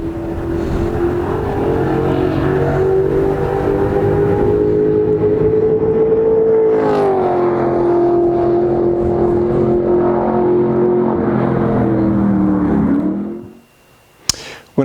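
A bead roller's driving shaft, fitted with an adapter and a 5/8 swivel socket, turns a slip roll with a loud, steady motor whir that dips slightly in pitch midway, then winds down and stops near the end, followed by a brief click.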